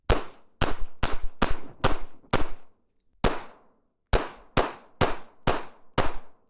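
A Springfield Hellcat .380 pistol fires at a steel target: a fast string of six sharp shots, then one more after a pause, then five more, each a loud crack with a ringing clang.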